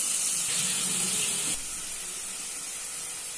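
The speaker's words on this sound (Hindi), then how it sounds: "प्याज को हमें हल्का सा गोल्डन ब्राउन फ्राई कर लेना है।" Coarsely ground onion fries in a hot pan with a loud bright hissing sizzle that drops to a softer, steady sizzle partway through, close up.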